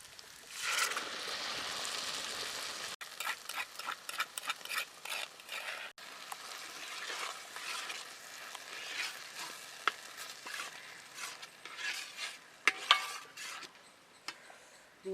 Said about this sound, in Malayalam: അരച്ച് കൊണ്ടുവന്ന് വെച്ചിരിക്കുന്ന അരപ്പൊടി അതിലേക്ക് ഒഴിച്ചു കൊടുക്കാം.